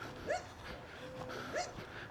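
A dog on a Jamaican shoreline whimpers in two short, high whines with soft panting and outdoor background noise between them, moderately quiet.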